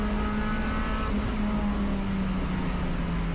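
Spec Miata and SMX race cars at a wet race start at Blackhawk Farms Raceway, their engines a loud, continuous droning roar with a steady pitch that holds close and unbroken the whole time.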